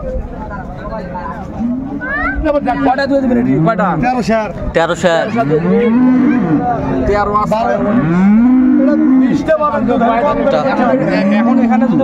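Dairy cows and calves, including Holstein Friesian stock, moo repeatedly at the Raniganj cattle market in Dinajpur, their loud, drawn-out, rising calls coming one after another over steady crowd chatter and people talking nearby.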